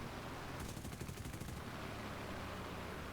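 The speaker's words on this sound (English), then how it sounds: "More people shooting." A short burst of rapid machine-gun fire rattles from an aircraft in an air combat video game, faint and somewhat distant, lasting about a second over a constant engine hum.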